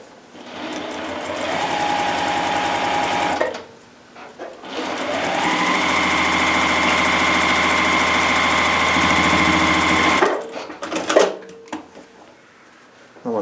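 A sewing machine stitches a paper-pieced quilt border in two long steady runs of rapid needle chatter and motor hum, close by, with a brief pause between and handling noises at the end.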